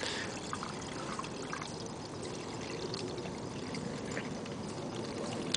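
Water pours and trickles steadily from a plastic feeding bag used as a watering bag onto garden vegetables, a continuous close splashing flow with no speech.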